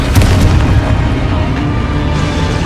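A Confringo blasting spell explodes in the Hogwarts Legacy video game, a loud, dense, sustained booming roar with heavy low rumble that fills the whole moment, with no voices.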